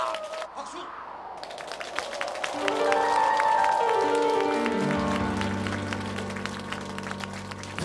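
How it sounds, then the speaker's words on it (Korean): Audience applause welcoming a singer on a Korean singing-class show, clapping fading as band music with sustained tones rises and carries on loudly. "박수로 맞이해 주십시오."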